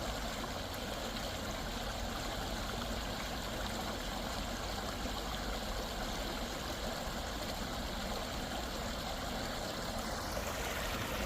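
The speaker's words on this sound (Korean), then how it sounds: "물소리 들리시죠?" A clear, shallow stream flows steadily outdoors, making a constant rushing, babbling wash of water with no pauses or voices.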